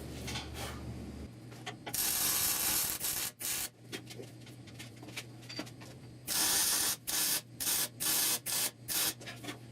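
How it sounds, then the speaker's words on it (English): Welding a fabricated patch panel onto a severely rusted core support of a 1969 Chevrolet C10, heard as a series of loud, close, crackling bursts separated by short pauses. "now we can weld it up for real."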